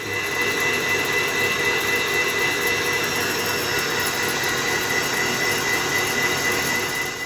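Metal lathe taking a finishing pass with a carbide insert at 700 RPM, a steady continuous whirring hum with high-pitched tonal whine, loud and unbroken throughout with no talking.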